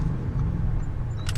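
A car engine idles with a low, steady rumbling purr close by, and a few light clicks sound just before the end of the short stretch.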